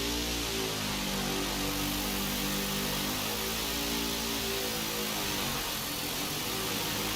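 A car engine running in the Microsoft Flight Simulator game, a steady, loud droning hum with layered low harmonics and a constant broadband hiss throughout, with no talk.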